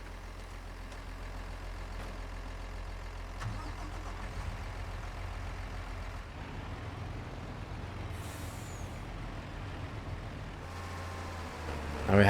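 A heavy vehicle engine in Farming Simulator 25 rumbles steadily at low pitch for the whole stretch, with a hiss of air near the end as it fires up and idles.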